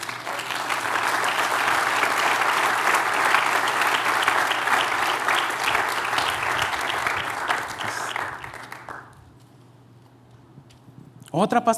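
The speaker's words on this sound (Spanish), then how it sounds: "Dele un aplauso al Señor." A church congregation applauds the Lord with loud, sustained clapping that stops abruptly, leaving a quiet room before a voice begins.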